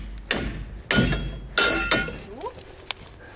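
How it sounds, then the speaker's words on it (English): A hammer strikes wood three times in slow succession while framing walls, sharp close thuds spaced about half a second apart, followed by a couple of lighter knocks. "now let Dad take a few whacks"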